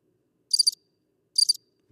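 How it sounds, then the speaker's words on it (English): Two short bursts of cricket chirping from a soundboard effect in a podcast room, each a quick trill of high pulses about a second apart, clean and isolated against silence. "Crickets."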